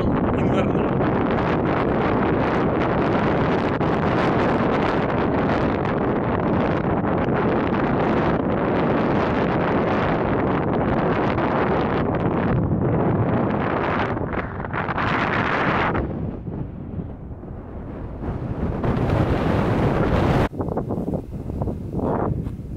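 Strong wind buffets the microphone on a sunny mountain hike, a steady loud roar lasting throughout, dropping briefly near the end before gusting again.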